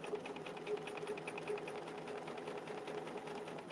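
A sewing machine stitches at a quick, even pace, its needle mechanism tapping out a rapid regular rhythm over a soft motor hum, fairly quiet and close, no voices.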